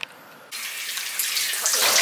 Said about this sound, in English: Alright, I found some showers.